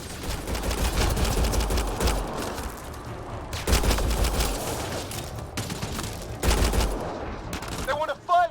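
Bursts of automatic gunfire and fusillades in a shooter game, several loud volleys separated by brief lulls, with shouting voices mixed in and tonal chirps at the very end.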